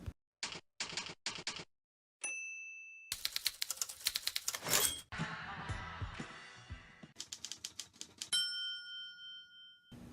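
Typewriter keys striking in quick bursts in TV production company logos, with bell dings, a carriage return and sharp clacks, loud and close with little else around them.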